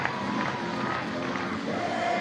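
A large crowd of Banana Ball fans roars in a stadium during a Savannah Bananas versus Party Animals game, a loud, steady wash of cheering and chatter with no breaks.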